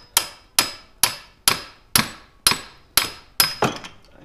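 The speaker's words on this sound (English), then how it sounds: "Use a real hammer." A hammer strikes a Garelli NOI moped motor part during a rebuild, giving eight loud, evenly spaced metallic blows with a bright ring, close and with no voices.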